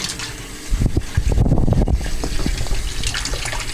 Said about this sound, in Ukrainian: Я включаю, вот смотрите, горячую воду.